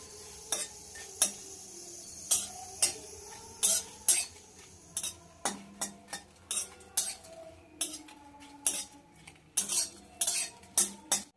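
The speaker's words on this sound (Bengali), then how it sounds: "লঙ্কাটাকে শুকনো করে আগে একটু ভেজে নেব।" A spatula scrapes and clinks steadily against a dry pan while dry-roasting dried red chillies, in rapid repeated strokes, close up, with a faint sizzle and no talking.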